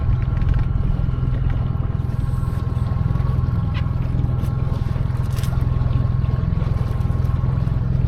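A Mercury 20 hp outboard on a Honwave T40 inflatable boat runs steadily on the water, a continuous low throbbing drone with wind noise, close and loud throughout.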